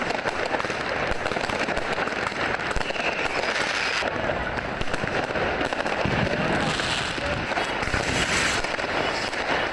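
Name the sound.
New Year's Eve fireworks and firecrackers in the street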